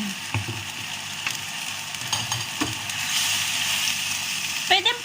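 Beef steak sizzles and crackles in a hot pan, a steady frying hiss with occasional clinks of a utensil and a brief voice near the end.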